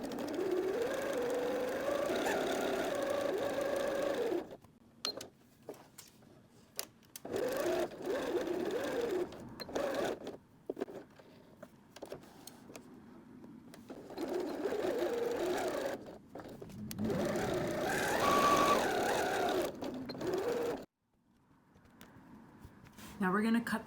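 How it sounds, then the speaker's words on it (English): A sewing machine stitches fabric along the fold of a library bag, a close whirring drone that runs in stretches and breaks off between them, while a voice talks over it. "So we're starting to sew up where the fold is. And we need to make sure that we sew right up to that edge."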